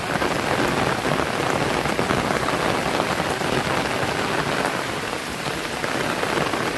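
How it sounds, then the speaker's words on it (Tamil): Heavy rain pours steadily over flooded paddy fields in Jaffna, a dense, loud, continuous hiss of water on water and soaked ground with no voices, holding even in level throughout. "நல்லா அடிச்சு விட்டுது மழை"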